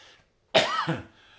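A single harsh cough, close and loud, breaking out of near silence in one rough burst with a short second push.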